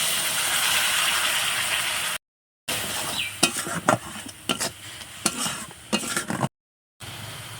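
Salt, turmeric, chili, cumin and coriander powders with a splash of hot water hit a sizzling masala for yam and prawn curry, with steady frying hiss and rhythmic stirring scrapes broken by two short silent gaps.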